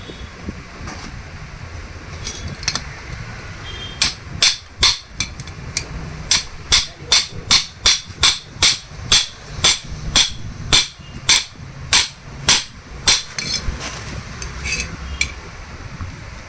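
Repeated metal hammer blows drive a tapered roller bearing cone onto a motorcycle steering stem, about twenty sharp, evenly spaced strikes in steady rhythm, close and loud, with no talk.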